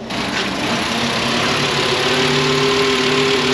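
A Volkswagen engine idles roughly in a repair shop, a close, steady droning hum with uneven low pulsing throughout.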